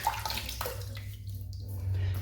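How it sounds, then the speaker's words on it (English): Water splashed by hand onto a face before a shave with a 1930s Gillette Gold safety razor, close and soft, a brief wet slosh fading into quiet with a low steady hum beneath. "Put a little bit of water on my face."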